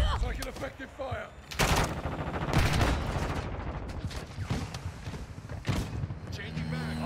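Gunfire in the Modern Warfare 2 video game crackles in repeated bursts of automatic shots and impacts, with people talking over the shooting throughout.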